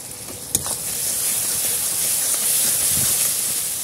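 Whisked sour yogurt hits hot oil and sizzling spices in a pan for Bengali katla kalia, a loud, steady hiss with a sharp splash at the start, no voices.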